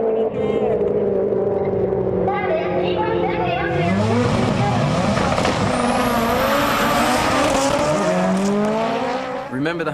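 A turbocharged race car engine screams at high revs during a street drag run in Sendai, climbing through gears with sharp shifts, loud and close throughout a full run.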